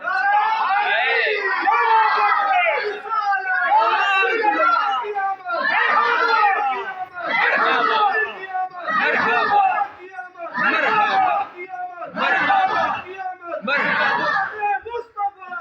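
A large gathering at a religious gathering chants slogans in response, with about eight loud group shouts in a steady rhythm, each one separated by a brief pause.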